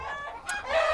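Chickens and a rooster in breeding pens crow and cluck up close, a brief bright burst of bird calls rising toward the end, with no talking.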